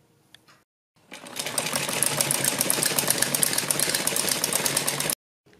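A sewing machine runs steadily for about four seconds, stitching a designer kurti, its fast mechanical whir loud and close, with brief quiet before and after.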